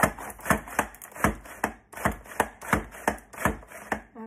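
Bell peppers being julienned on a mandolin slicer, a run of sharp crisp slicing strokes in steady rhythm, close and fairly loud with brief pauses between strokes.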